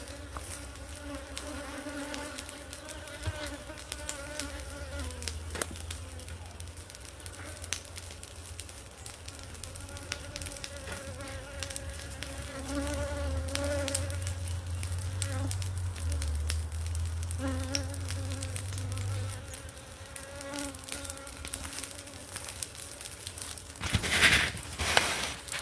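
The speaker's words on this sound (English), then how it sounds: "A lot of bees in there." Dense, continuous buzzing of many honeybees in an opened hive, close and steady for the whole stretch, with occasional soft rustles and knocks as frames are handled.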